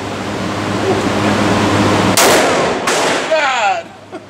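A Smith & Wesson 500 Magnum revolver fires at an outdoor shooting range: two loud, sharp bangs come about a second apart over steady background noise, followed by a short, quieter tail.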